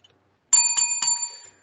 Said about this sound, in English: There's the bell, so we know what that means.